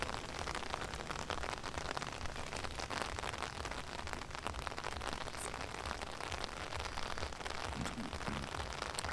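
Heavy tropical rain pours down in a dense, continuous hiss of drops drumming on nearby surfaces, steady and enveloping for the whole stretch with no clear voices.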